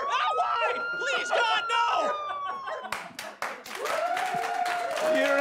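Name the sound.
studio audience clapping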